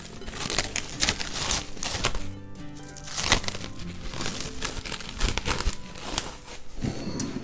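Plastic wrap being peeled off a covered bowl of overnight no-knead bread dough, close crinkling and crackling with uneven bursts and short pauses.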